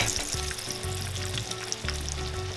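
An alcapurria frying in hot oil gives off a steady, dense sizzle and crackle with faint popping, close and continuous throughout with no talking.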